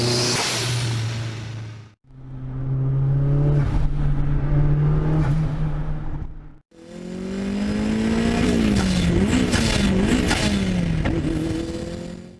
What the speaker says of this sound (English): when you get into the higher power levels, that engine really jumps around a lot